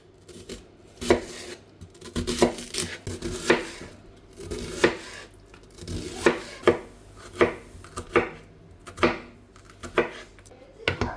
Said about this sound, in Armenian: Կտրատում ենք սոխ և սխտոր։